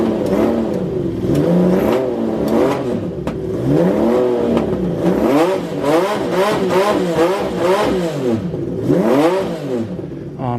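Motorcycle engine fitted with a new Delkevic exhaust starts and revs repeatedly, each throttle blip rising and falling in pitch over a steady loud idle, close up and alone.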